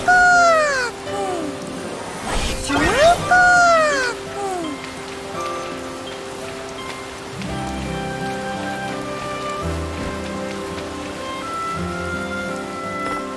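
Steady rain falls in the farming video game Harvestella, a continuous soft patter beneath bright chiming game tones and a looping melodic soundtrack, with no talking.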